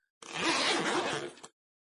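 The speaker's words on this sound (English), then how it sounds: "I heard the sound of the zipper to the tent zipping down." A single tent zipper pulled down in one steady stroke, close and fairly loud, lasting just over a second with a slight catch at the end, then silence.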